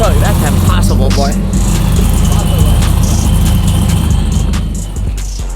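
A loud 1,500 horsepower burnout truck engine roars and revs up close, a dense rumbling drone that holds steady before easing slightly at the end, with voices mixed in.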